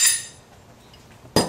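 A hammer strikes to drive out rear axle bearings on an 8.8 rear end, two sharp metallic hits, one at the start ringing away and one at the end, with quiet between.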